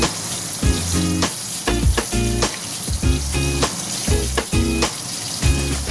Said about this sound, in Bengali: পটলটা একটু ভালো করে ভাজতে হবে।